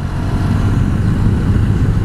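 Honda VFR1200X motorcycle engine running steadily while riding on a road, a loud continuous low rumble with constant wind and road noise throughout.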